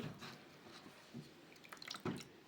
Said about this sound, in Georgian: ეხლა ავიღოთ ჩვენი ცომი, ამოვავლოთ სიროფში